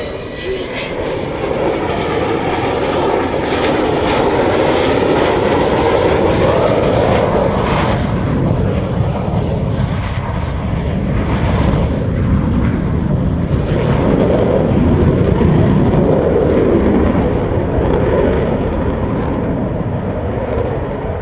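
An Avro Vulcan bomber's jet engines thunder at the RIAT Fairford 2012 airshow, a loud, sustained roar that swells and shifts as the aircraft passes, continuing for about twenty seconds.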